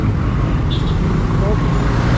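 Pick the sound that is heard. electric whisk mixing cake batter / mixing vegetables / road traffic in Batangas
road traffic in Batangas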